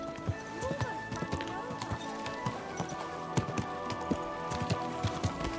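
Horse hooves clip-clop in the Kingdom Come Deliverance 2 video game, a steady run of close, distinct hoof strikes over a busy ambient background.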